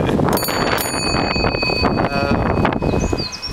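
Bell on a penny-farthing bicycle ringing outdoors, a few bright metallic rings near the start that sustain and fade over wind noise and rolling movement.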